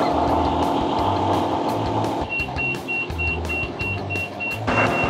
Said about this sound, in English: First step is to turn on the hydraulics.